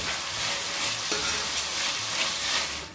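Curry leaves and spices fry in a pan while being stirred for a bottle gourd kuzhambu, a dense even sizzle with faint scraping, close and steady with no voices.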